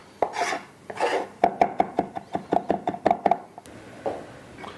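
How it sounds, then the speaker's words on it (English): A knife chops finely by hand on a board for a classic lasagne, a quick run of about a dozen sharp close knocks in steady rhythm, with a few soft scrapes before and after. "And I'm going to chop this quite finely."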